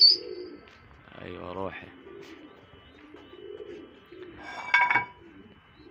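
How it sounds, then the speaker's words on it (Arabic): Several domestic pigeons coo softly in low rolling bursts, close by, with someone speaking briefly and a sharp whistle-like burst cutting in. "طلع ما شاء الله كيف حمام طالع نشيطة كلها مع بعض"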